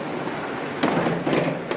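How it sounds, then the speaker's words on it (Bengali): Heavy rain pours down in a hard, steady hiss on surrounding surfaces, loud and close, with brief swells of stronger gusts and no one talking. "এত জোরে বৃষ্টি নেমেছে"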